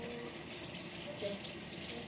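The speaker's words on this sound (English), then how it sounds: "I need to wash my hands" Steady running water from a tap splashes into a sink as hands are washed, a continuous close hiss with no pauses.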